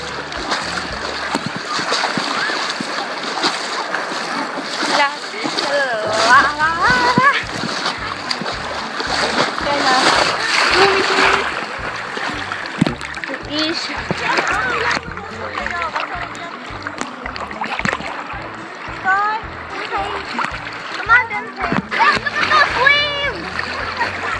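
Ocean waves wash over someone at the beach, with repeated splashes and gushing water close by, while voices and children's chatter carry on throughout.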